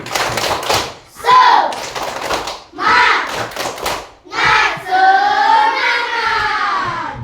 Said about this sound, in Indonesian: Ice breaking kita tepuk semangat.